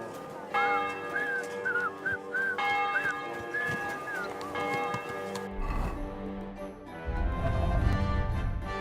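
A character whistles a lilting melody in the video game Kingdom Come Deliverance 2. Church bells ring behind it and faint hoofbeats come and go, and the whistling fades into lower ambient rumble.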